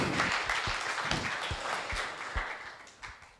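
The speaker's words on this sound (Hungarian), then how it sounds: "Nyugodtan meg lehet tapsolni őket egyébként." Audience applause at a fitness talk event in Budapest, a steady wash of many hands clapping with scattered sharper claps, fairly loud and continuous, no talk over it.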